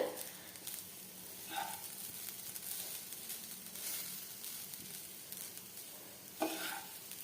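Grated coconut roasting in a pan, a soft steady sizzle with occasional scraping stirs of a spoon against the pan, fairly quiet and close, no talk.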